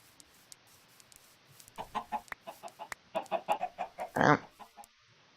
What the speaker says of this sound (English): let's go ahead and get some of the chickens to follow us.